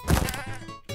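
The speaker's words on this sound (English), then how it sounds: "Goats are here." A goat in a Minecraft mountain biome bleats loudly up close, a single wavering, nasal cry filling most of the moment before a short fresh burst at the end.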